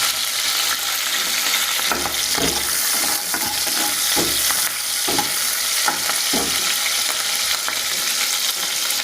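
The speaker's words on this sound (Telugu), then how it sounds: "పచ్చిమిరపకాయలు వేసామండి." Green chillies and curry leaves fry in hot oil with a steady, close sizzle, broken by several sharp scraping stirs of a spoon against the pan.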